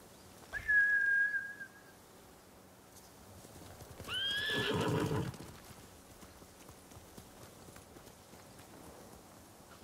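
A samurai mount horse whinnies shrilly, then a second longer neigh follows amid faint hoofbeats and a quiet background hum, in Ghost of Tsushima.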